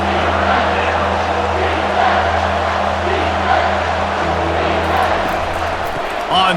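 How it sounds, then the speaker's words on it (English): A steady roar from a big stadium crowd at a Tennessee at Ohio State College Football Playoff game, with the noise rising as fans back the defense in the red zone, while a commentator talks over it. "The crowd getting behind this defense as they try to get a stop in the red zone."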